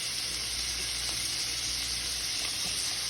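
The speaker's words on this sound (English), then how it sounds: "Now I'm going to add in the squash." Squash sizzles steadily in a hot pan with salt pork, a dense, even frying hiss that carries on without a break, close and fairly loud, with no voices.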